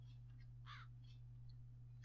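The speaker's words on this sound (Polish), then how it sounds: "Something's wrong with those crows." Crows in The Dark Eye: Memoria game cawing, a couple of harsh calls at moderate distance over a constant low electrical hum, with a few faint softer chirps.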